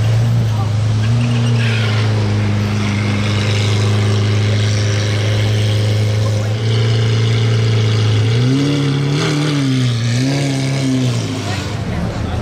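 A Lamborghini Aventador SV with a modified exhaust idles with a deep, loud rumble, then revs up twice in quick swells near the end, with people talking faintly underneath.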